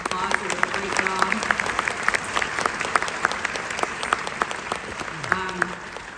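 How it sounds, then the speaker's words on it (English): A crowd at a classic film festival screening applauds continuously and loudly, with sharp individual claps standing out and some faint voices and whistle-like tones mixed in. "everybody give them a round of applause"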